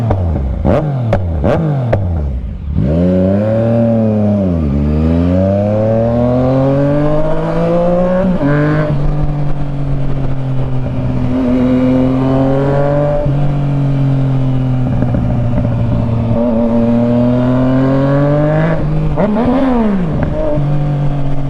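A Yamaha Tracer 900 motorcycle engine revs loud and close on a night ride, with sharp throttle blips at the start and then a sustained, rising and falling drone as the bike accelerates and shifts.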